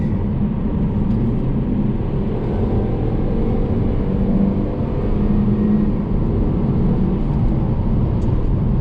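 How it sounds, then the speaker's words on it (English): A Volvo C70 T5 engine cruising at about 60 miles per hour just under 2,000 RPM, heard from inside as a continuous, even low drone mixed with road noise. "I've just got to make sure it sounds like a Volvo should"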